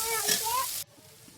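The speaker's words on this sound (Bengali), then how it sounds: "তো সব কিছু একসঙ্গে মিশে নাড়াচাড়ি করবো।" Ground spices with chopped tomato, turmeric and chili powder sizzle and fry in a pan while being stirred, a steady close hiss that cuts off suddenly, with someone talking over it.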